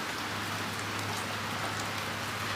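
Heavy rain pours down outside a house with a front yard, a dense, constant, loud hiss of drops hitting surfaces with no letup and no voices.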